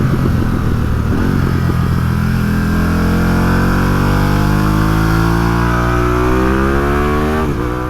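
A motorcycle engine captured by a helmet-mounted mic, loud and close, revving up steadily with rising pitch over several seconds, then dropping off sharply near the end as the throttle closes.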